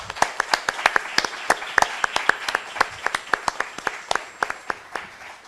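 A modest conference audience at an international congress on Jesuit missions claps, sparse individual hand claps ringing out in an uneven rhythm, fairly close and clear, without any talk over them.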